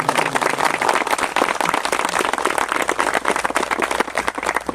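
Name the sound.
applause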